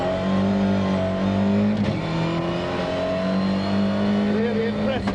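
A race car holds a long slide on tarmac at the 1995 Race of Champions, its engine droning loud and steady close by with a slight tire hiss, while a commentator talks over it.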